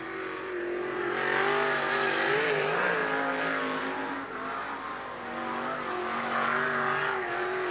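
A race car at Lernerville Speedway, car number 23, accelerating hard during an evening qualifying run, its engine note rising and falling loud and continuous through several gear changes.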